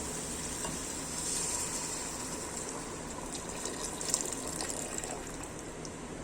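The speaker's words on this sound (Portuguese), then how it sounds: "Eu vou adicionar água." Water pours steadily into a cooking pot while a dobradinha (tripe stew) is being made, a soft, continuous gushing splash heard alone and fairly quiet throughout.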